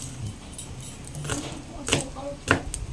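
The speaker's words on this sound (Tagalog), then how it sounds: "Ayan, naghihiwa ako." Knife chopping garlic in a home kitchen, a few sharp cuts spaced irregularly over quiet room noise, close to the listener, with voices in the background.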